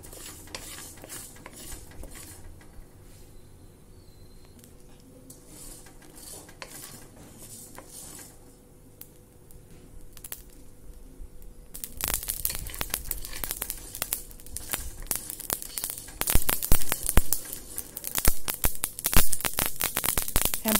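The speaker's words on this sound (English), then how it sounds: "I'm going to first roast the mustard seeds." Mustard seeds dry roasting in a hot pan, starting as a faint quiet sizzle, then crackling and popping sharply and continuously as the seeds heat, with scattered bursts growing louder toward the end.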